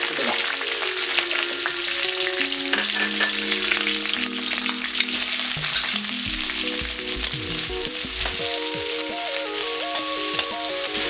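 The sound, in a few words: onions, green chillies and curry leaves sautéing in hot oil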